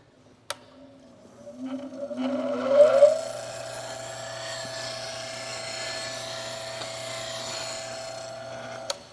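A bench grinder whirs up after a click and settles into a steady high whine as a woodturning tool is held in a jig for sharpening, running for several seconds before a final click.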